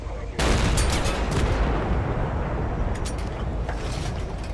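Rapid, dense gunfire from an Abrams tank's weapons in the video game Total Conflict: Resistance, a loud continuous barrage with booming low rumble and crackling bursts that starts abruptly and runs throughout.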